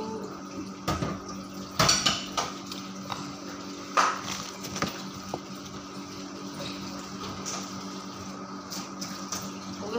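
Plates and cutlery clink and clatter at a sink while dishes are washed, with water running underneath; close, irregular knocks of dishware against each other and the basin, no voices.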